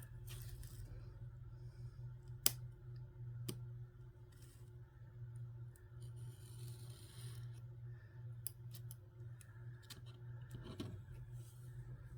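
Scissors snipping for a quick trim, with faint sparse cuts and clicks scattered over a low steady hum, quiet and close.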